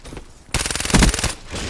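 A loud, rapid burst of automatic gunfire in the Black Ops 3 video game runs for close to a second, close and dominant, with a quieter stretch on either side and no talking.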